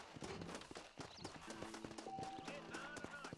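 Horse hooves clip-clop steadily in the Red Dead Redemption western game while a horse is being broken, with a brief whinny rising partway through; someone talks over the hoofbeats.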